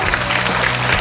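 A studio audience on a Korean TV variety show breaks into loud, dense applause, a brief close burst of many hands clapping together with a little crowd murmur.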